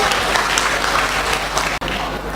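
An audience at a national education seminar applauds a participant from Riau: sustained, dense clapping from a crowd indoors, with a brief cut near the end.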